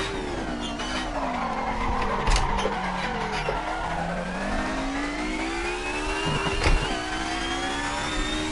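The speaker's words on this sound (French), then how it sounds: "Je vais encore bloquer mes roues." A touring race car in a racing video game locks its wheels under braking, with a drawn-out tire skid and squeal over the engine note and sharper bursts near the middle and end.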